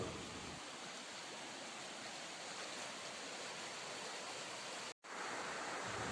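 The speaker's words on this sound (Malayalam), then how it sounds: "നല്ല തെളിനീർ വെള്ളം ചോലിൻ്റെ താഴെ പാലത്തിൻ്റെ തോട്ടിലുണ്ടാവും" Clear, cold stream water rushes beneath an old British-era bridge built of granite blocks and iron, a steady broadband flowing hiss that holds almost unchanged, with a brief dropout near the end.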